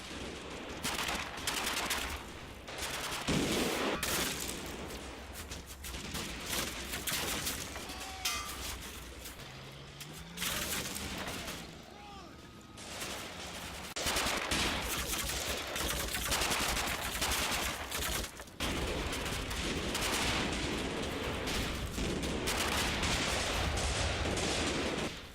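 Machine gun fire in the Combat Mission Final Blitzkrieg video game during a withdrawal under smoke: dense, continuous bursts and rattling gunfire fill a busy battlefield mix for the whole stretch, with no talking.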